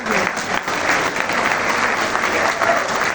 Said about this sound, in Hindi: आप सबकी भरपूर तालियां